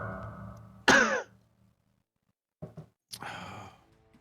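Coughing from poison damage in a tabletop game: two separate harsh bursts, the first loud and throaty near one second, then quieter broken coughs after a pause, all near and with no talk.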